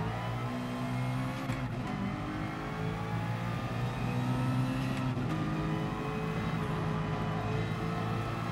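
Race car engine in Gran Turismo Sport during an online FIA race, a steady loud drone of the engine holding high revs throughout, with slight shifts in pitch and no break in the sound.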